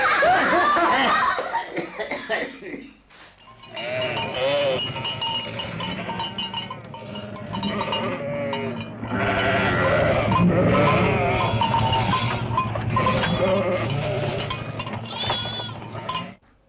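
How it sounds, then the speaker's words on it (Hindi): Buffaloes making a loud, sustained commotion of bleating, braying calls over almost seventeen seconds, with a brief dip near the start; the noise stays dense and close throughout. "ये भैंसों ने कैसा शोर मचाता शुरू कर दिया"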